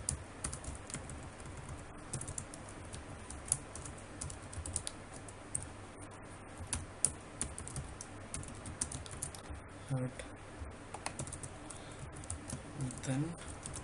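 Keys clatter steadily on a computer keyboard while HTML code is typed for a responsive dropdown navigation menu. The clicks come in quick irregular bursts, close and fairly quiet, over a low room hum.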